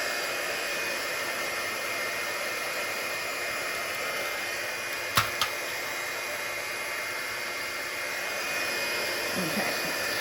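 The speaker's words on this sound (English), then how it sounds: "We'll get our heat tool and we'll set that embossing folder." A handheld embossing heat tool blowing hot air, a steady loud whirring hiss that runs throughout, with a couple of brief clicks partway through and no talking.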